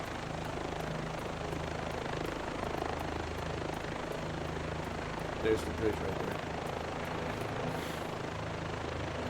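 A Bell 407 helicopter in Microsoft Flight Simulator 2024, played in PSVR 2 over the Grand Canyon, produces a steady rotor and turbine drone throughout, with someone talking briefly over it.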